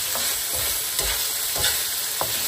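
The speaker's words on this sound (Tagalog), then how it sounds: "lagay na natin yung sili. Inikos-nikos lang ng sandali." Chili peppers being stirred in a frying pan for chicken curry give a loud, steady sizzle, with several scraping stir strokes spaced about half a second apart.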